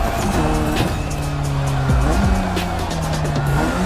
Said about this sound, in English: let's step away from the street rivalry for a moment and have some quality drift time